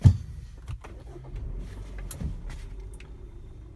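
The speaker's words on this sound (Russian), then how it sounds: "Сейчас заведу машину, послушаем, как это говнище работает." A warmed-up Kia Sportage with a G4KD engine reported to be knocking starts and runs, heard from inside the cabin as a low, fairly quiet rumble after a brief initial burst, with faint clicks and rattles over the steady hum.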